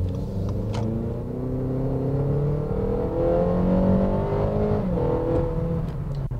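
A 2.4-liter four-cylinder VTEC engine in an Acura ILX accelerating hard, a loud, steady rising drone heard from inside the car with the pitch climbing continuously over several seconds, then briefly dipping at a shift before climbing again.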